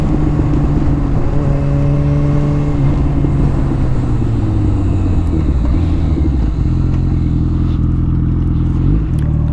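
A Yamaha FZ1 motorcycle engine drones steadily while riding, with loud, constant wind-buffeted rumble and engine tones that dip and shift as revs change.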